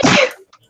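A single sharp, close sneeze bursts out and fades quickly into near silence.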